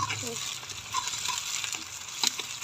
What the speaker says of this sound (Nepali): र यसमा हामीले लसुन अनि खुर्सानी, साथमा यो हरियो खुर्सानी तिनीसँगै फ्राई गर्छौँ है।